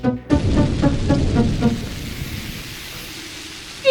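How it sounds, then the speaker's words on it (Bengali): Heavy night rain pours down in a steady, dense hiss, with a few rhythmic thumps early on before it settles into a constant wash, heard alone without talk. "এত বৃষ্টি পড়ছে"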